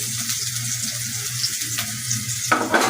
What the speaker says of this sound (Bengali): আমি এখন পেঁয়াজটা দিয়ে দিব, সামান্য পরিমাণ পেঁয়াজ, আর চিড়ে রাখছি 4-5টা কাঁচামরিচ